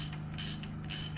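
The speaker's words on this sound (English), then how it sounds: "Ratchet." Ratchet wrench clicking as it tightens a 16 mm bolt during a GM 3.6 LFX engine timing chain install, with two short bursts of close, rapid ratchet clicks over a steady hum.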